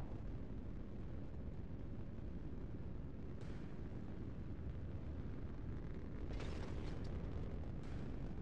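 Missile launch in a naval video game on the Styx map, heard as a continuous loud roaring rush with a brief burst near the middle and a stronger surge of whooshing bursts toward the end.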